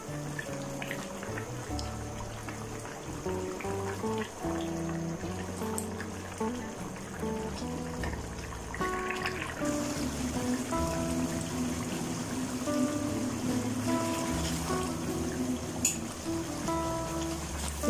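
A pot of degi beef korma on a high flame as its water boils off, making a steady, close bubbling and spattering that continues throughout.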